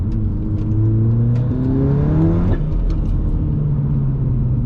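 A car fitted with a hybrid IS38 turbo accelerates hard during a street race, its engine note climbing through revs and a gear change, loud and continuous with no talking.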